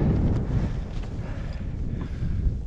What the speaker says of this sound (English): there's fair wind